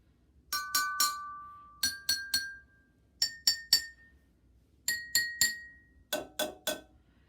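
A metal spoon makes bright strikes on the tuned bars of a homemade xylophone, played in quick groups of three with pauses between, each note ringing briefly at a high pitch.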